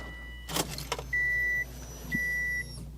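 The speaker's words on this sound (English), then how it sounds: "You can hear the fuel pump kick on, right? It kicks on great." A car's fuel pump kicks on after the key is turned: a few clicks and jingles, then two steady high electric whines, each about half a second, separated by a short pause, close and clear with no talk.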